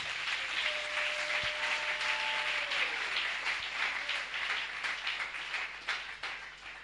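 A church congregation claps and applauds the Lord, a sustained dense wash of many hands clapping together, steady and fairly loud throughout before thinning slightly at the end.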